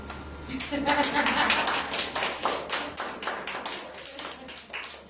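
A few hands clap in a church setting, sharp scattered claps in an uneven rhythm that rise and then taper off, close by and fairly clear, with a voice speaking faintly underneath.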